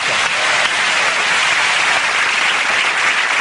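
A studio audience bursting into loud, dense applause, a steady roar of many hands clapping together for a TV programme, close and sustained throughout without any speech.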